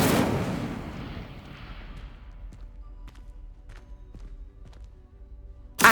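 Incendio fire spell in Hogwarts Legacy: a loud fiery burst at the start that fades into a long, quieter tail with scattered thumps, followed by a short sharp sound at the end.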